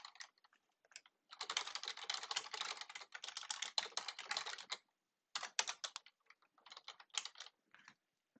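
Rapid keyboard typing while code is edited, a close, quiet clatter of keys in dense bursts separated by short pauses, with no talk.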